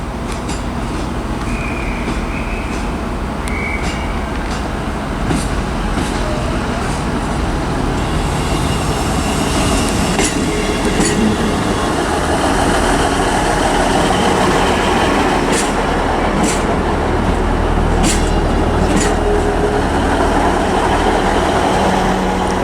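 ScotRail Class 158 diesel unit 158710, a terminating service from Elgin, rumbling steadily at Inverness station, with faint clanks and station ambience and no talking.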